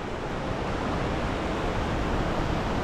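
A mountain waterfall along a snowy trek roars as a steady, dense rush of broadband water noise, loud and unbroken throughout with no voices.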